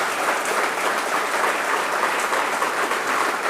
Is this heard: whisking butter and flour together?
no